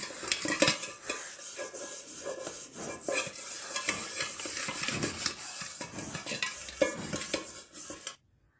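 A burnt milk vessel is scrubbed hard with pitambari cleaning powder, giving rapid gritty scraping strokes against metal with occasional clinks, close and steady, no speech.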